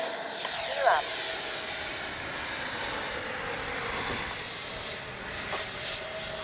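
A small FMS Avanti S 70mm electric ducted-fan model jet whooshes steadily overhead with a high-pitched whine, continuous and fairly distant, with faint wind noise.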